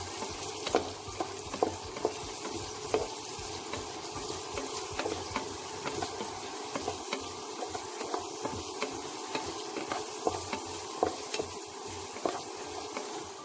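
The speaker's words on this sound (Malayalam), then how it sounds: "ഓയിൽ ചൂടായി വരുമ്പോൾ അതിലോട്ട് 2 സവാള ഇട്ട് ബ്രൗൺ നിറമാകുന്നത് വരെ" Onions sautéing in hot oil in a pan, giving a continuous close sizzle with light, regular stirring taps and scrapes throughout at a moderate level.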